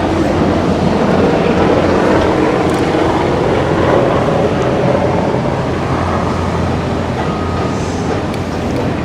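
Two helicopters flying past overhead in a town, a steady loud rumbling roar that holds for the whole stretch with no talk.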